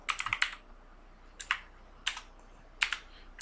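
Fingers tap on a computer keyboard in quick short bursts, a rapid cluster of clicks followed by three separate brief flurries with quiet pauses between, close and fairly soft.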